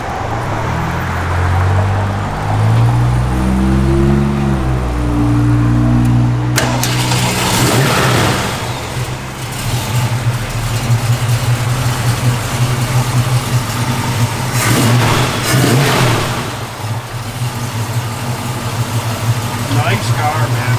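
A 1972 Ford Mustang Mach 1 engine idles with a low rumble, then revs up and falls back, the pattern repeated under speech close by.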